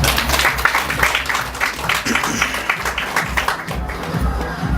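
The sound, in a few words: audience applause at a wedding ceremony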